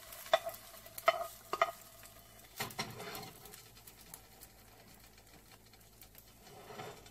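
A sunny-side up egg frying in a pan, with soft sizzling and scattered clicks of a utensil against the pan, louder taps near the start and a steady low crackle beneath.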